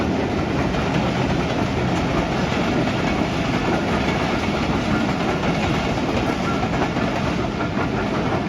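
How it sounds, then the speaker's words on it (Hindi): Train passing on the Karachi railway line near a railway colony, a loud, steady rumble with rolling wheel clatter that carries on unbroken for the whole stretch, with no voices over it. "ट्रेन गुजर रही थी, मैंने कहा चलो दोस्तों को ट्रेन भी दिखाते हैं।"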